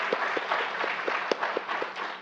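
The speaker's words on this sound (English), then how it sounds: "Let's give the doctor a round of applause" A small audience claps for a doctor after a health talk on advanced heart failure, light scattered clapping with a few distinct near claps standing out.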